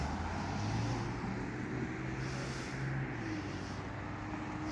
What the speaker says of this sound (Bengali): এই পাশে হলো হাইওয়ে রোড।